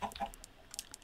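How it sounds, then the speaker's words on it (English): Short, soft chicken clucks from Minecraft chickens, a few quick blips close together over quiet game ambience. "Come on, chickens, in the hole."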